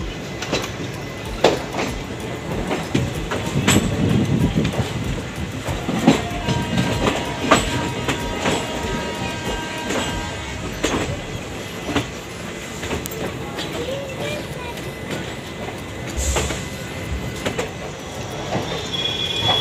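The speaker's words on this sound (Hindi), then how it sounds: "ट्रेन हमारी बरौनी जंक्शन ब्यूटीफुल कर्व के साथ छोटा सा क्रॉस करते हुए इंटर करती हुई" The Mithilanchal Express rolls into Barauni Junction on a curve, a steady rumble under repeated clickety-clack wheel beats over points, with faint wheel squeal, heard from inside a coach.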